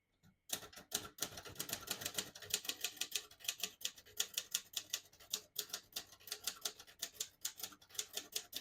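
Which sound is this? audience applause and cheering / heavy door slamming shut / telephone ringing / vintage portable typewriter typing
vintage portable typewriter typing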